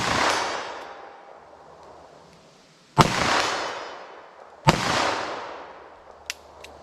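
.32 H&R Magnum or .327 Federal Magnum handload gunshots fire outdoors, three sharp loud reports spaced a couple of seconds apart, each trailing off in a long echoing decay.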